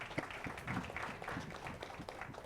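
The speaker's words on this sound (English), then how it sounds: "let's give a round of applause to all the sponsors" Seminar audience at a sales and negotiation workshop gives the sponsors a round of applause, a modest group clapping briskly in a room, faint and steady for a couple of seconds.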